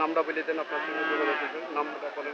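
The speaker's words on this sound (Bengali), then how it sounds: "এগুলো সব দেশি মহিষ" A drawn-out lowing call from a domestic water buffalo close by at a cattle market in Kalampur, rising and falling, with other animal sounds around it.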